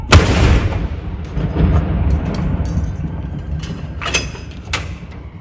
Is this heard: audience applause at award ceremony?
no